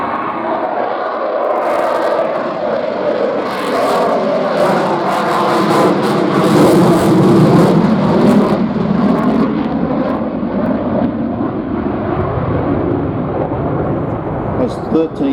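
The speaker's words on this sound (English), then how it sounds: "he will switch back into full reheat and accelerate away" A jet fighter at the Midlands Air Fest roars in full reheat as it accelerates away, a sustained, thunderous broadband rumble that swells and fades slowly, with a voice talking faintly underneath.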